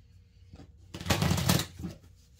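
Playing cards shuffled back into the deck mid-game during a tabletop wargame, a single brisk riffle burst of about three-quarters of a second, close and fairly loud, with softer handling rustles just before and after.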